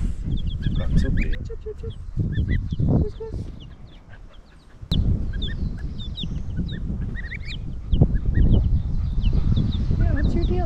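A flock of geese honks and cackles continuously nearby, layered over rustling and scuffling movement.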